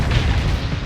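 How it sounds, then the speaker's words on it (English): A single heavy, booming torpedo blast in the space combat game Starsector, loud and low, filling a short moment with no talk. "oh, that was a torpedo."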